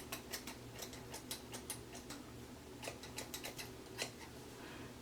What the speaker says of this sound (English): I'm gonna go ahead and cut these ear tabs off because they're annoying me